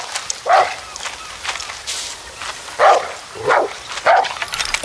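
Dog in Far Cry 6 giving several short barks and yips spaced irregularly, close by, with footstep-like shuffling between them.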